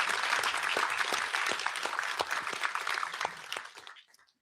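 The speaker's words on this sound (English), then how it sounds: "give them a round of applause" Audience applause at a live Robinhood presentation event, a dense wash of many hands clapping loudly and steadily, then thinning out and fading near the end.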